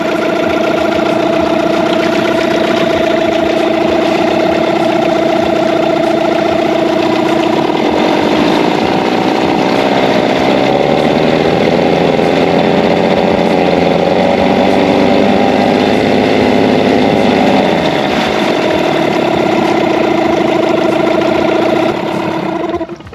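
A neglected Yamaha 9.9 hp two-stroke outboard motor idles steadily in gear, a continuous buzzing engine drone with a slight shift in pitch midway, close and loud throughout.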